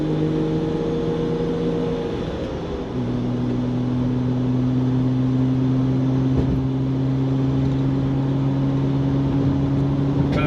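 A Mercedes-Benz W124 300E with a straight-six engine, climbing a gentle hill in fifth gear, heard from the cabin: a loud, steady droning hum that dips briefly as the pitch drops, then holds smooth and even with no talking.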